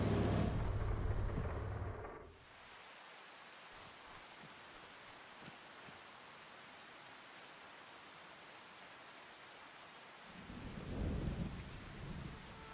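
Rain in a racing video game pours steadily as a soft, even hiss, with deeper rumbling bursts at the start and near the end, heard alone without voices.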